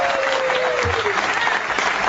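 A studio audience clapping steadily throughout, a dense, loud wash of applause from a crowd, with some talk beneath it.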